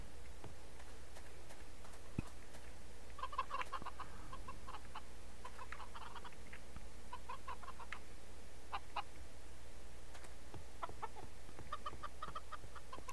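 Chickens cluck in scattered short bursts in a Minecraft farm setting, soft and slightly distant over a low steady background, with no talking.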